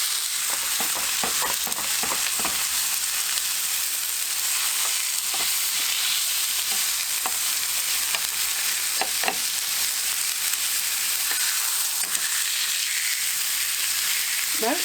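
Frozen Cajun casserole leftovers sizzle and fry in a pan, a loud unbroken hiss with occasional scraping clicks of a utensil, no talking.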